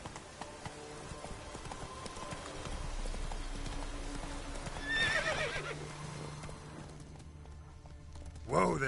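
Roach, the horse in the video game The Witcher 3, clip-clops along at a trot for several seconds, then lets out a loud whinny near the middle. A deep low hum runs underneath, and a final sharp snort-like burst closes it.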